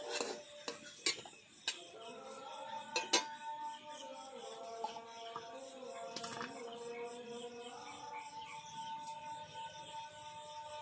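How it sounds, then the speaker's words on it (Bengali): A fried potato-stuffed mughlai paratha being lifted from a pan: metal utensils clink and scrape against the pan in sharp taps, over a faint, steady sizzle of hot oil. "মোগলাই পরোটা ভাজা হয়ে গেছে বন্ধুরা, এবার আমি তুলে নিচ্ছি।"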